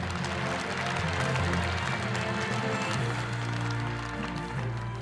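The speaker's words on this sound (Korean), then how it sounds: "다시 한번 박수 부탁드립니다." Audience clapping at a Korean launch meeting for peace and unification advisers, a broad continuous wash of applause over a low hum from the hall's sound system, steady throughout without any speech.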